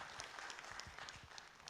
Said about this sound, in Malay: kita mulakan dengan bagi tepuk tangan gemuruh lah kepada kita semua panel